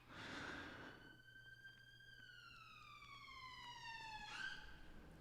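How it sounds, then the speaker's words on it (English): An ambulance siren sweeps past with a steady, gliding wail whose pitch drops as it goes by, loud and fairly close over low traffic rumble, with no talk. "Sorry, ambulance."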